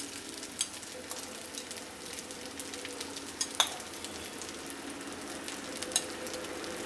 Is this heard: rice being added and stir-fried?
yes